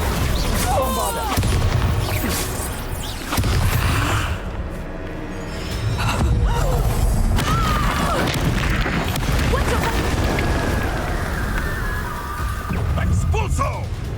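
Bombarda blasting spell in the video game Hogwarts Legacy, heavy booming explosive impacts amid continuous combat noise, crashes and other spell effects, with voices shouting over the fight.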